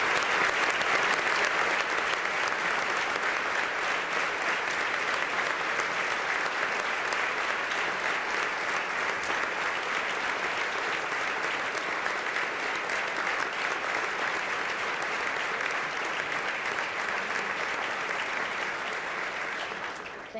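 Sustained, full applause from a large audience honoring graduates at an institute's silver jubilee celebration, a thick, even roar of clapping that carries for about twenty seconds before tapering slightly at the end.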